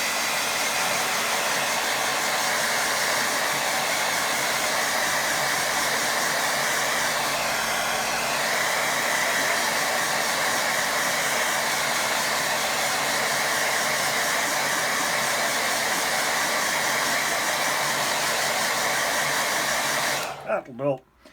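A hair dryer blows a steady, loud whir over a watercolour painting of a misty beach, running unbroken for about twenty seconds before it switches off abruptly.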